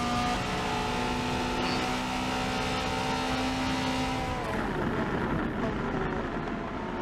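Race cars from the 1980s roar at full speed in a racing video game. A steady engine drone holds throughout, then shifts pitch as one car passes by, and there is no talking.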